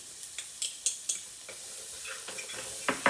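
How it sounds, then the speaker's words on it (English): Onions and garlic sizzle faintly in a frying pan on turned-down heat, with a steady soft hiss broken by several sharp clicks and scrapes of stirring utensils against the pan. "Throw your onions in."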